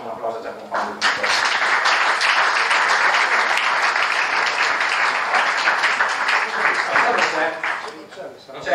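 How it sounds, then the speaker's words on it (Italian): Audience applause at an RBR season presentation event, starting after a short pause and holding loud and steady for about seven seconds before tapering off. "però facciamo un applauso già con Paolo"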